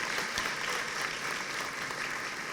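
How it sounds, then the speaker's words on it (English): Faint, steady applause from an audience at a business competition event, an even wash of clapping that carries on without breaks. "let's give a round of applause for Citizens Bank for their partnership over the last decade"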